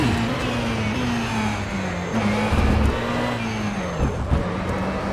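A GTE race car engine in the sim racing game rFactor 2 drones at a steady, held pitch, dipping briefly a few times as if shifting, with no talking.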